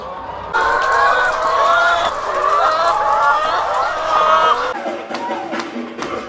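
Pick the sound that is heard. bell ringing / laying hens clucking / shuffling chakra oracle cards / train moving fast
laying hens clucking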